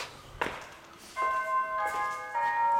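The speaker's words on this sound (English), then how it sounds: "Doorbell works." After a soft thump, a front-door doorbell of a house chimes twice, two clear ringing tones, the second following shortly after the first.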